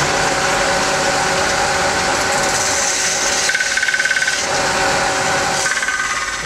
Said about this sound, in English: now I just got to sand it into shape